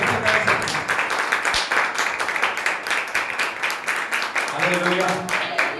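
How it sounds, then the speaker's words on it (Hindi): A church congregation at Eternal Life Church Bathinda claps hands in praise of Jesus, dense overlapping claps in a steady rhythm, loud and near, with a voice speaking over them. "यीशु मसीह की ताली बजा के प्रभु की प्रशंसा करें।"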